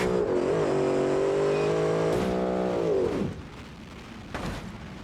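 A video game race car engine, on a three-wheeler, revs hard and climbs in pitch for about three seconds, then cuts off abruptly, leaving a quieter rumble.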